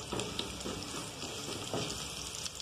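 Meat browning in a pan for a Brazilian escondidinho de carne gives a steady, dense crackling sizzle with soft stirring scrapes throughout, fairly quiet and close.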